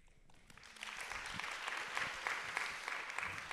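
An audience applauds spoken word poets at a performance, a quiet, dense patter of clapping that builds and holds steady, with no voices over it.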